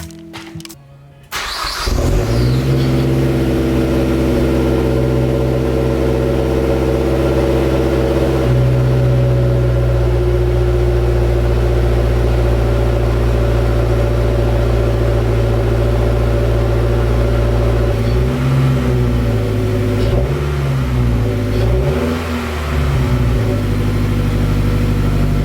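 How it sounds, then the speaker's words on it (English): A 2007 Mazdaspeed3 with an HKS exhaust starts up and idles loud and close, a deep steady drone, then gets several throttle blips near the end that raise the pitch briefly before settling back. "So as you probably heard, this thing sounds excellent with the exhaust."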